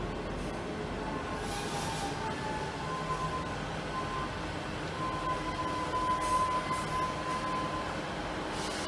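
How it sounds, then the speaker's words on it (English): Class 150-type sibling Class 158 diesel train arriving at Exeter St Davids station, a low steady rumble with faint squealing tones from the wheels or brakes, heard from the platform at moderate distance. "Let's take a look at a Class 158 arriving into Exeter St Davids."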